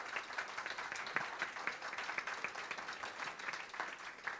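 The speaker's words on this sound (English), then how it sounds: "Let's just give them a little round of applause" Audience applause at a Houston Oasis Sunday gathering town hall, a steady, moderately distant wash of clapping that holds evenly throughout without voices.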